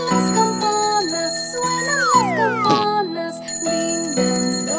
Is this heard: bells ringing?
yes